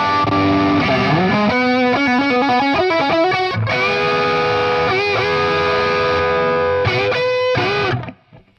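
An electric guitar through an IK Multimedia Tonex modelling a Marshall JCM 800 with a Tube Screamer boost plays a distorted riff of chugging chords and sustained notes, loud and upfront, ending in a sudden cutoff.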